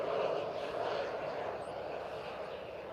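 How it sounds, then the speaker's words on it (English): A fast jet airplane passes overhead, a loud steady roar that fades slightly as it moves away, with no other sounds over it. "That plane sounds nice, too. That's a fast jet."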